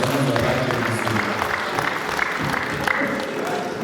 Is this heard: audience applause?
yes